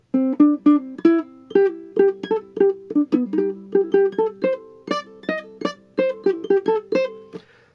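Plucked ukulele notes play a simple, even melody, each note struck plainly and left to decay, with no ornaments or slides.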